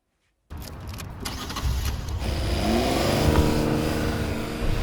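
A car engine starts after a moment of silence, with a few sharp clicks and mechanical noises at first, then settles into a steady, rising hum as the car drives off close by.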